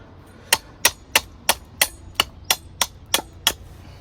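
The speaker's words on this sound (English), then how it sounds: "So now I'm just gently chipping away just to get that as flat as possible in profile." A Darien machete chips wood to flatten a spoon blank, giving about ten sharp, evenly spaced knocks in a steady rhythm, close and distinct against a quiet background.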